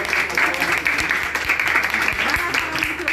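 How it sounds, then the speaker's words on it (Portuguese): Guests at a husband's surprise birthday party clap their hands, a steady patter of applause mixed with voices talking and a thumping low beat underneath. "pode bater palmas aí,"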